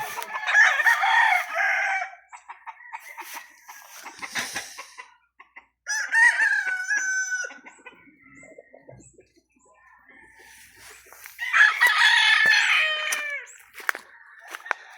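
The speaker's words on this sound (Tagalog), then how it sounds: "Yung mga manok dito." Roosters crow loudly several times on a chicken farm, with hens clucking in between and quiet gaps, all fairly close and without any talking.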